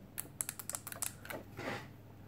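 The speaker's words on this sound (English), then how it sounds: "Buttons nice and clicky." Buttons clicking on a Bounabay Wee wireless telescopic Bluetooth controller gamepad, a quick irregular run of small sharp plastic clicks close up, then a brief soft rustle, with no talking.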